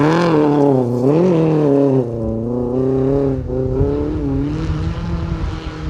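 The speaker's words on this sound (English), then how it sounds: "I can hear him on the other side of Greystoke still, making all that noise in that Peugeot 208." A Peugeot 208 rally car on a forest stage at Greystoke, its engine note loud and steady with rising and falling revs and quick gear changes as it drives past close by.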